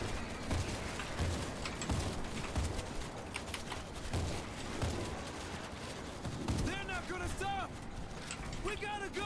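Rapid gunfire and mechanical clatter from the zombie shooter World War Z fill the scene continuously, with dense bursts throughout and a few whooping high tones near the end.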